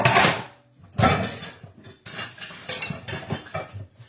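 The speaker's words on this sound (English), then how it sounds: "My apologies for all the jiggling about in the background. I had to get my measuring spoons out." Metal measuring spoons jiggle and clink together in a kitchen, several bursts of rattling and chinking close by with short pauses between, no talking.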